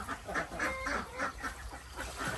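Several ducks quack in a loose, repeated series of nasal honks, fairly close, with no talking.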